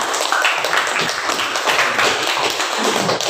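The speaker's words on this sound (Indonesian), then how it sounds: "tepuk tangan untuk kelompok 1" Classroom applause for the first student group, a brisk, dense patter of many hands clapping close by, steady for about three seconds.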